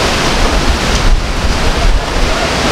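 Strong typhoon wind roars steadily across the microphone in Batangas province during a Signal No. 3 storm, a loud, continuous broadband rush with gusts.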